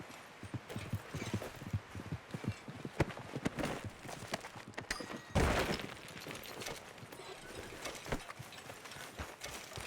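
A horse in Red Dead Redemption 2 trots with quick, rhythmic hoofbeats that run continuously and fairly close, with a brief louder burst midway.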